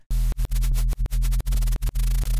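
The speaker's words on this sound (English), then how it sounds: "for the flutter, we have white noise." A synth bass patch pairs a deep sustained bass tone with a hissy white-noise layer that flutters in fast, choppy gated bursts. The bursts cut in and out rhythmically, loud and alone.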